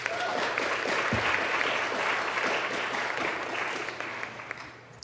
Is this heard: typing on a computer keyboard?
no